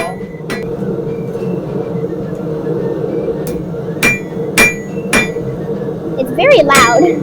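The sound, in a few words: blacksmith hammering red-hot metal on anvil, drawing it out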